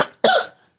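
A person gives two quick harsh coughs, close and loud, the second stronger and rougher than the first, with nothing else heard.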